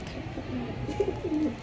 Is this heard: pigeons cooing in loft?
yes